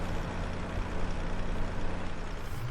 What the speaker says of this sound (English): this is one of those loud tractors too